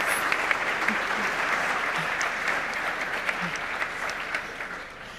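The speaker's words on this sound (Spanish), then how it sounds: "¿Cuántos aplausos?" An audience at an education and technology panel applauds steadily for several seconds, a dense clapping wash at moderate distance with a few sharper claps.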